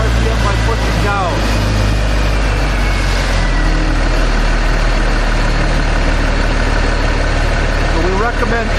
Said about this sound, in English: you increase the RPM by pushing up on the middle toggle switch